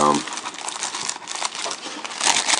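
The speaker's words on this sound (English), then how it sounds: "So let's get this ancient cellophane on here" Old cellophane wrapping a pack of 1991 WCW trading cards crackles and crinkles continuously right up close, brittle and bright, after a brief voice at the very start.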